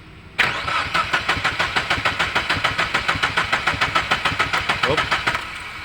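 A Chevrolet Lova's engine cranks on the starter without catching, making a steady rapid chug that lasts about five seconds before stopping. The sound is close, with voices nearby.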